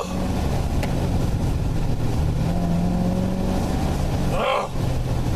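A 2015 Chevrolet Corvette engine drones loud and steady while driving, with a brief rise in pitch near the end and a short dip as the throttle lifts.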